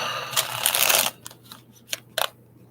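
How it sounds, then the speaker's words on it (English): A deck of Healing Oracle Crystal Reading cards is shuffled in a close riffle lasting about a second, followed by a few sharp, separate card taps and flicks. "going to put one more shuffle down"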